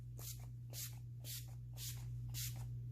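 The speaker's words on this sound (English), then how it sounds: "we want to lock it in with our setting spray" Makeup setting spray is misted in five short, evenly spaced bursts over a constant low electrical hum, close and fairly quiet.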